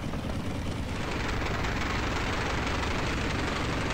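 In the Homebrew Vehicle Sandbox video game, a vehicle engine runs up to speed as a dense, loud, continuous roar that slowly rises and steadies over a few seconds, with no voices.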